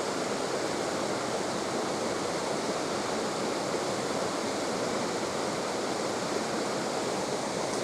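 A waterfall roars as a steady, dense broadband rush, continuous and even throughout at moderate level with nothing else over it.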